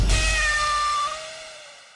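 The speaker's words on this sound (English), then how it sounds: "that's the cat being blasted out the airlock." A single drawn-out cat meow, a falling wavering cry that fades away, heard alone with nothing else around it.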